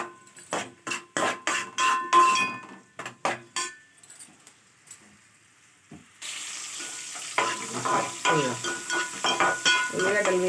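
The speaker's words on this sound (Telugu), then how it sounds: "ఉల్లిగడ్డలు వేగిపోయినాయి." Onions fry in oil in a pan. A series of short, sharp clattering bursts with quiet gaps gives way to a continuous, fairly loud sizzle that carries on to the end.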